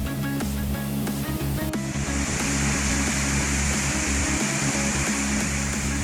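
Constant roaring rush of the Ciangin waterfall in West Java, Indonesia, steady and loud throughout, with a low rumbling undertone and no voices.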